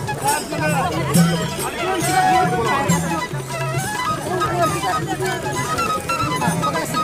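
A dense crowd of warkari pilgrims gathered for the Sant Tukaram Maharaj palkhi procession: a steady wash of many overlapping voices and bustle, close and continuous, with some low chant-like tones running through it.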